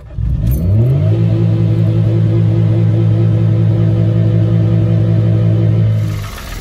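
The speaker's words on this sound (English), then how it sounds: "So after sitting there revving the car up for a couple of minutes" Citroen C1 engine held at steady high revs to heat the catalyst, a loud, continuous droning rumble that climbs quickly at the start, holds level for several seconds, then drops away at the end.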